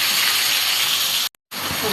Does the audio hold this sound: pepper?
yes